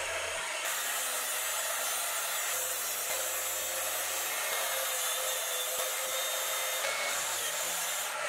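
A track saw plunge cutting into a pop-up camper panel, a loud continuous whine held for several seconds, with a brief change in tone near the start and again near the end.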